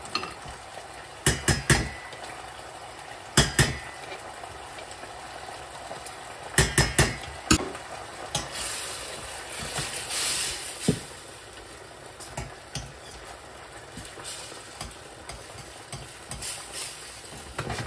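Duck breast cooks in a pan of pepper sauce made with whole cream, a continuous soft sizzle broken by sharp clinks and scrapes of a utensil against the pan.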